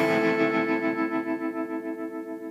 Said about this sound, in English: so I'll strum a chord, you can have a listen.